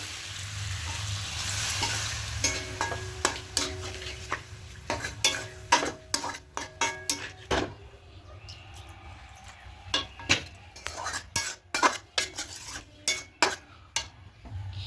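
Water poured into potato masala in a pan for aloo biryani: a hiss and sizzle at first, then a long run of rhythmic, close spoon scrapes and knocks against the pan.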